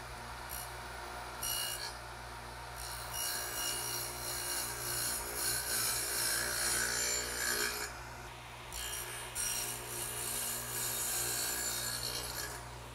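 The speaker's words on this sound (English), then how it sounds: "now let's turn it over and dado out for the shelf." Cutting a dado in wood for a workbench shelf, a steady rasping, rubbing tool noise with a constant low hum beneath, moderately faint and continuous with slight swells, no talk.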